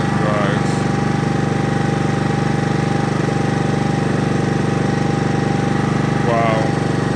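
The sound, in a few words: new Honda lawn mower engine running after first start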